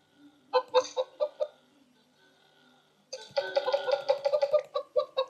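Video-game chickens on a virtual farm cluck in short bursts, a few scattered calls at first, then a dense, busy stretch of overlapping clucking from several birds.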